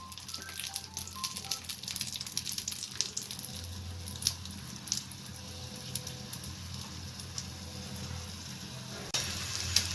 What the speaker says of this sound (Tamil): இந்த மாதிரி எண்ணெயில் பொரிய விட்டு 2 பக்கமும் நல்லா வேக விட்டு எடுத்துக்கலாம்.